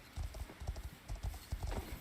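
A horse's hooves clip-clop steadily in a video game, a rapid rhythmic patter of soft thuds that keeps going throughout at moderate volume.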